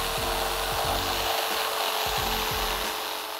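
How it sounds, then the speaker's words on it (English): A power saw cuts a curved radius through wood for a kids' climbing wall, a steady loud buzzing whine with rhythmic strokes and no talking. "now that I cut my radius"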